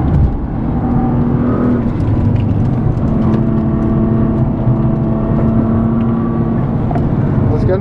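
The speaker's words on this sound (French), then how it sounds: "Une voiture de course quoi." Nissan GT-R race car engine heard from on board during a passenger ride, a loud continuous roar with sustained tones that hold and shift slightly as it accelerates, with no break.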